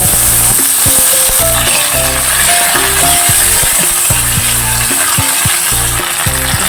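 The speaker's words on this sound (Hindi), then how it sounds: "तेल गरम हो गलानी एबे शुखला लंका देदवा एबे जीरा सरिष देदवा" Dried red chillies, cumin and mustard seeds sizzle loudly in hot oil in a kadai, with a dense, continuous crackle and steady frying hiss close up, with no talking.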